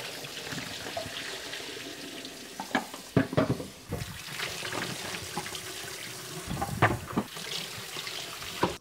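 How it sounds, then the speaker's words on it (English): A film developing tank for home slide processing is filled with running tap water, emptied and shaken, producing a steady splashing stream with sloshing, knocks and gurgles over several seconds, close up and without speech. "I'm gonna fill and empty this tank with water from the tap about 5 times"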